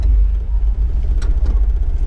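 A 1956 Chevrolet Bel Air engine runs, a deep, loud low rumble heard from inside the car as it sets off for a drive, with small rises and dips in the throb.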